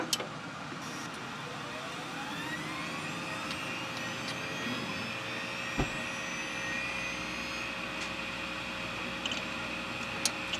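An old SHOUTcast server computer spins up, its fans and drives producing a steady broadband whir with rising whine tones, interrupted by a few sharp clicks and one low thump partway through; no talking.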